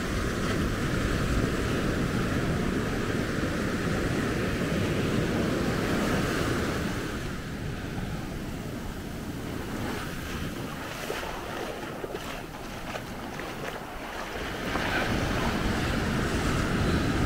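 Ocean surf rolls and washes onto the beach at Maspalomas on Gran Canaria, a continuous broad roar of breaking waves with buffeting wind noise on the microphone, steady throughout with a slight dip in the middle and no voices.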